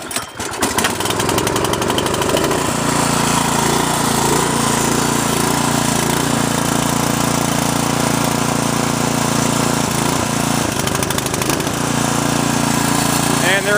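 A Sears snowblower's small gasoline engine catches on a single pull, then settles into a loud, steady, buzzing idle at close range that runs on throughout. Someone talks briefly over it.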